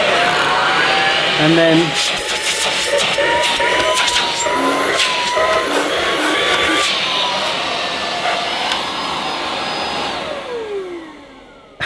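AEG FX9 Ultimate cordless handheld vacuum cleaner switched on and running, a steady loud motor whine with suction noise that holds for most of the clip and then winds down near the end, while someone talks over it.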